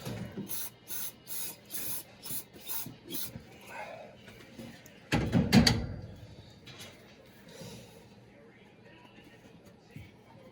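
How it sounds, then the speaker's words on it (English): A long hiss of an aerosol cleaner can spraying close up into a bowl, after a series of short rhythmic bursts, with people talking around it. "Just spray some of that in the bowl and"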